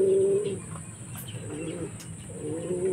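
A racing homing pigeon coos softly nearby after returning from a 296 km release at Vigan, two or three low throaty coos separated by brief pauses against quiet background hum.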